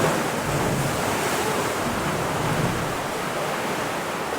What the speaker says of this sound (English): You can hear the water hitting the back of the cave there.